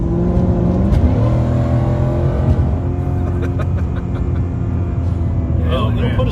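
Supercharged Shelby Mustang accelerating hard, a loud continuous engine roar rising in pitch under steady wind and road noise from inside the car.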